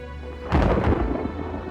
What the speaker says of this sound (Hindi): और बादल गरजने की आवाज आ रही थी।